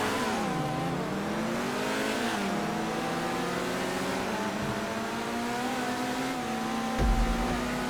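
A race car in GTA 5 Online revs hard and steadily, its engine pitch climbing and dropping through gear changes at close range, with a brief thump near the end.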